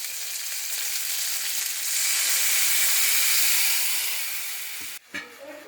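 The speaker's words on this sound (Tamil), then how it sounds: "இந்த கரைச்சி வச்ச குழம்பு எடுத்து அதில் விட்டுடுங்க" Tamarind fish curry gravy hitting a hot pan, a loud broad hissing sizzle that swells and holds steady, then drops off abruptly near the end with a couple of clanks.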